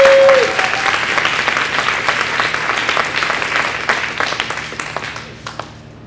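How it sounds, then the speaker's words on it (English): A crowd at an Ignite Sheboygan speaking event gives a strong round of applause, loud and dense at first and then thinning and fading toward the end. "How about another round of applause?"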